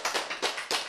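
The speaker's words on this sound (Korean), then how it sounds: "박수." Short bursts of clapping, several sharp hand claps in quick uneven succession, sound close and moderately loud during a church sermon.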